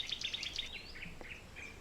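Wild birdsong recorded in Rwanda: a quick run of faint, high chirping notes followed by softer, thin whistled phrases over a light background hiss.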